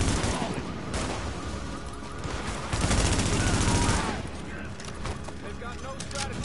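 Rapid automatic gunfire in the shooter game The Division, a dense continuous fusillade that swells louder midway and runs throughout, close and loud, with players talking over it.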